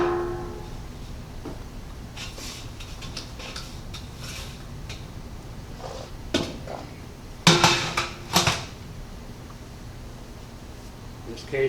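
A metal bottom sieve pan holding fine asphalt mix material is lifted and set down for weighing, giving a few sharp clinks and rattles over a quiet room hum.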